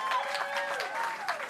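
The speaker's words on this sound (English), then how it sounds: "you can applaud for that" Moderate crowd applause at an outdoor Hollywood Walk of Fame star ceremony, a dense patter of clapping with whistles and cheering voices over it.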